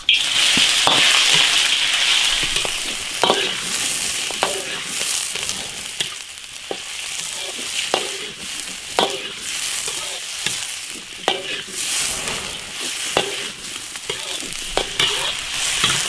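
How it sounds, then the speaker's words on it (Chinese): Beef pieces stir-fried in oil in a wok sizzle loudly and continuously, with regular scraping strokes of the spatula against the pan throughout. "牛肉下锅先炒"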